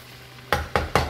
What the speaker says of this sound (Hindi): आपने इसको प्रॉपरली जो है वो फ्राई करना है